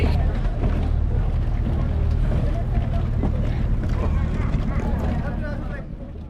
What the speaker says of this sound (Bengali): আর এই হলো আমাদের বোট।